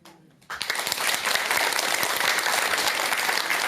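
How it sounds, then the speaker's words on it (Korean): Audience applause bursts out at a Buddhist dharma talk after quiet, steady dense clapping from a hall of listeners, loud and sustained throughout. "박수 쳐주세요."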